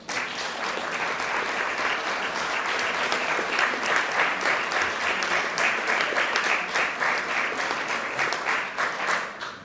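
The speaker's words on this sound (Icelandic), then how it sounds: "eigum við ekki að gefa forsetanum gott klapp?" Conference guests give Iceland's president, Guðni Th. Jóhannesson, a warm round of applause, a steady, crowded patter of many hands clapping at moderate distance with some individual claps audible, and no speech over it.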